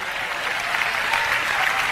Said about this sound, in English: Clap your hands and say amen